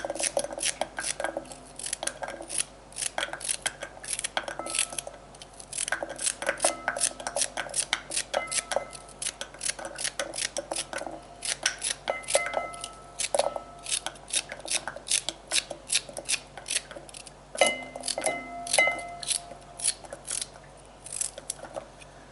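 Celery cut with a knife on a board for a stir fry, producing steady rapid chopping clicks in uneven bursts, close and clear, with short pauses between runs of cuts.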